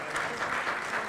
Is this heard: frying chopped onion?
no